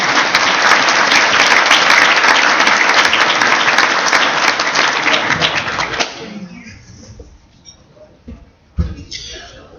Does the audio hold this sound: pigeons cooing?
no